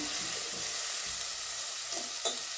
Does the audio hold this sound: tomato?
yes